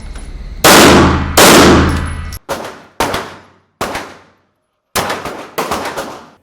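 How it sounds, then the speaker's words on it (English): Gunshots ring out during a live-fire shooting drill on a range: a few loud, sharp reports followed by quick pairs and single shots, each cracking and decaying, with short silent gaps between them. "Bad guy, center target, 2 shots."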